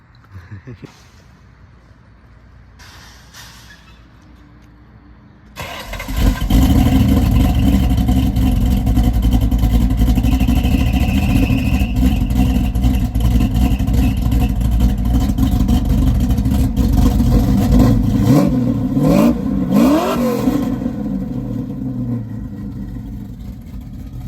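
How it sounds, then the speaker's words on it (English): A 1966 Ford Galaxie with a 302 V8 engine and a torque converter, recorded from inside the car. It starts quietly, then comes in loud and rumbling as the car accelerates, holds a steady heavy drone with rising revs, and people talk over it. "Little 302 sounds good."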